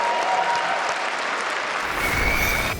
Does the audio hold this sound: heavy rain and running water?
no